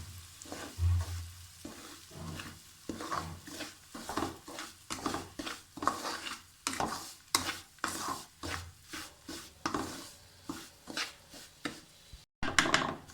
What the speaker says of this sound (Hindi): अब हमने इसमें 1 कटोरी जो सूजी थी वो डाल देनी है और इसको भून लेना है हल्की आंच पर।